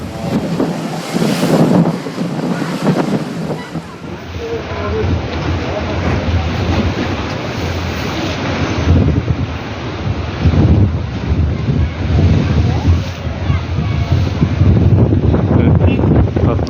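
Strong sea waves surge against the Mudanya shore, a dense roaring wash of surf with heavy wind buffeting the microphone throughout, swelling in bursts without pause.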